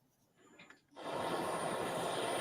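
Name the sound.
military helicopter flying, dropping relief items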